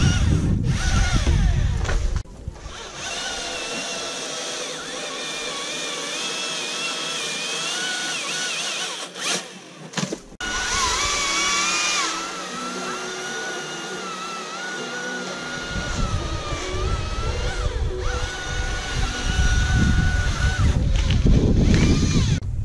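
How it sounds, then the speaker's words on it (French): A Husqvarna chainsaw engine whines and revs loudly for a long stretch while cutting acacia wood, its pitch rising and dropping as it bites in, with brief pauses between cuts. "On va essayer ça après avec la tronçonneuse de pied."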